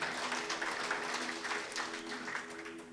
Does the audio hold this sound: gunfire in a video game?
no